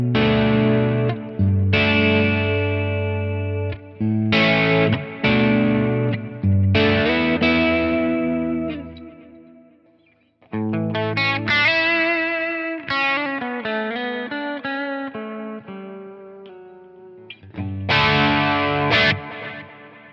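Electric guitar through a Peavey 5150 amp capture on a Quad Cortex, set to edge-of-breakup, strums chords and lets them ring with a slightly gritty, almost clean tone and wet effects, loud and close with short pauses between phrases.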